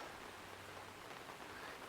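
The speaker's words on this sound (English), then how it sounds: "But that rain is really starting to pick up." Rain falling at night at a campsite in a Québec national park, a soft, steady, even patter on surfaces without a break, heard faintly and alone.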